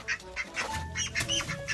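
Peking ducks quacking on a backyard farm, a quick burst of several close, loud, overlapping quacks with no talking.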